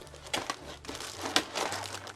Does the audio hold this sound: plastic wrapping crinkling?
yes